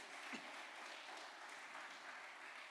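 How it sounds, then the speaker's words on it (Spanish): Church congregation applauding to welcome first-time visitors, a very faint, distant and steady wash of clapping from a large room. "Démosles un aplauso de bienvenida a los que vienen por primera,"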